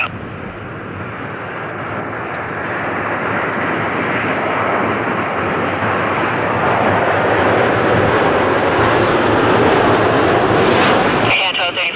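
An airliner takes off from runway 06 Left at Toronto Pearson, its jet engines swelling into a loud, sustained broadband roar that builds steadily and then cuts off abruptly near the end.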